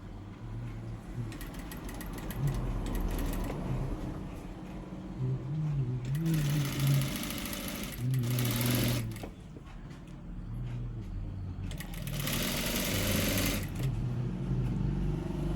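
A large high-speed sewing machine stitches blouse sleeves, its motor running in loud bursts that swell and stop between pauses, close by against a steady workshop hum.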